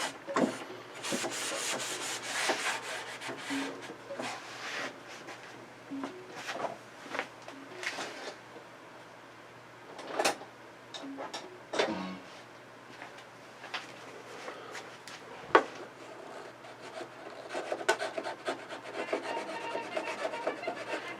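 Careful scraping and rubbing of dried glue off thin veneer on a pre-made cabinet rail and stile door, a steady rasping scratch with uneven strokes and a few sharper knocks, close by with no talking.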